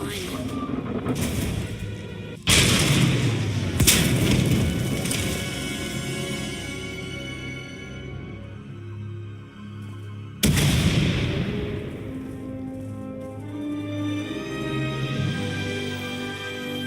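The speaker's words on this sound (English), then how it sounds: "We heard explosions." Heavy booming explosions in Star Wars: The Old Republic, two sharp blasts standing out over a continuous rumbling roar as a tunnel collapses, with voices talking underneath.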